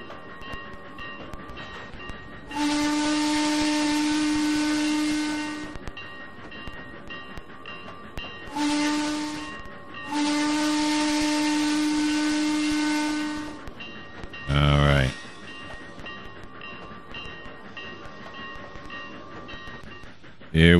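A train in the Trainz 2019 simulator on the C&O Hinton route sounds its whistle in several loud, sustained blasts separated by pauses, with a short burst of mechanical clatter near the middle, over quiet running noise.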